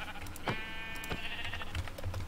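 A Minecraft sheep bleats twice in quick succession, the calls clear and fairly close over a faint low background hum.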